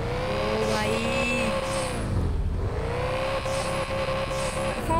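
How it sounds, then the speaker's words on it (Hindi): A car engine in an open world Android game revs up and down, a loud close whine that climbs, dips sharply, then rises again, sounding continuously. "गाड़ी का आवाज़ सुनो यार गाड़ी की,"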